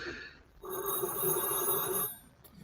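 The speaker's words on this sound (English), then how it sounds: "that damn phone" A telephone rings with a steady electronic trill lasting about a second and a half, fairly loud and close, with quieter room noise before and after.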